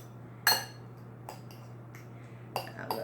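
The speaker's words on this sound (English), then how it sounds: "I'm going to stir all this up." A spoon stirs egg and olive salad in a bowl, giving a few sharp, scattered clinks against the bowl over a steady low hum.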